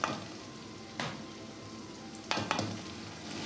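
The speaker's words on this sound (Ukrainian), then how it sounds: "Як підрум'янилася, і вона в каструлю засипає овочі." Onions and vegetables fry in lard in a pot, a steady broadband sizzle running throughout with a few louder bursts as ingredients are stirred or added, close and alone without talk.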